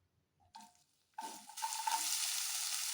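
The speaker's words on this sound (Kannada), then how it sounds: "ಇವಾಗ ಸಣ್ಣದಾಗಿ ಕಟ್ ಮಾಡ್ಕೊಂಡಿರ್ತೀವಂತ ಈರುಳ್ಳಿ ಹಾಕ್ತಾಯಿದ್ದೀನಿ" Finely chopped onions drop into a hot pan and burst into a steady, close sizzle that keeps going after a couple of small clinks.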